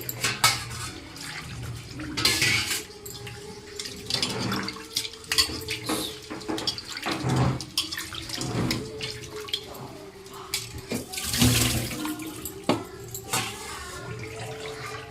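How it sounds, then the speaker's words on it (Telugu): Pieces of chandua fish are washed in water in a bowl, with repeated splashing and sloshing, scattered clinks of a vessel, and close, moderately loud bursts throughout. "ఇలాగా 3-4 సార్లు కడుక్కోవాలి"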